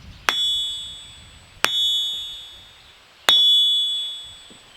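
An anvil struck three times while not mounted on a stand, each hit a bright metallic clang that rings out with a long sustained, high singing tone before the next blow.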